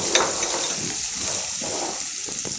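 Chopped potatoes sizzle in hot oil and ghee with bay leaf, cloves and cinnamon, a steady close crackle with a few stirring splashes.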